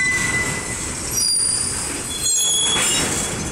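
An Illinois Central freight train, number 1015, passes through Effingham, Illinois. Its wheels squeal loudly and continuously on the rails, close by and heard alone.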